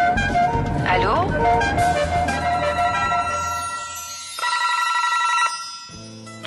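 A telephone rings repeatedly in a car-showroom setting near a vintage Alfa Romeo Giulietta, its electronic trills clear and fairly loud with a short pause, mixed with background voices and low rumble.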